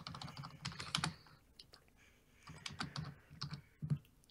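Quick bursts of computer keyboard typing during an online game of Town of Salem, keys clattering in uneven clusters with short pauses, fairly close and moderately loud, with no one speaking.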